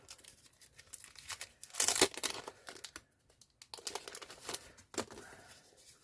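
A paper envelope is handled and torn while preparing junk journal booklets, with crinkling rustles and a loud tearing burst near the middle followed by more scattered crumpling, close and with no talk.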